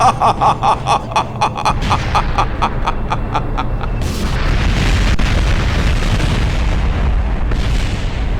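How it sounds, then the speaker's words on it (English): An explosion in the video game Kerbal Space Program after a plane loses control: a series of rapid, evenly spaced bangs gives way to a loud sustained rumbling blast with crackling debris, heard without talk. "it wouldn't be Kerbal Space Program if we didn't have an explosion"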